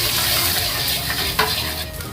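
Mustard greens and egg stir-fry in a hot pan as oyster sauce goes in, a loud continuous sizzle with small bursts of stirring and a brief scrape, close up and without speech.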